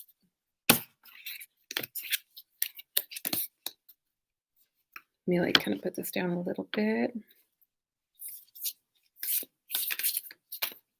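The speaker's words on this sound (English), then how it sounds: "I'm just shuffling the Monology deck." A deck of oracle cards is shuffled in quick, papery bursts of riffling and flicking, with a speaker talking briefly between the shuffles.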